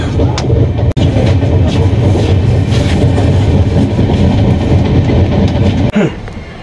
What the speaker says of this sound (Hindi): ये एक पार्सल वैन है, मैंने सोचा कोई ट्रेन है।